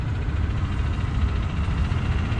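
A 1973 Minneapolis Moline G350 tractor, one of the Fiat-built Molines, idles close by at a tractor show with a steady, low, throbbing rumble that stays even throughout.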